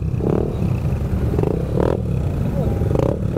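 A motorcycle's exhaust burbles through its muffler during an endurance ride, a steady loud low engine rumble with a few rising revs, close by while people talk over it.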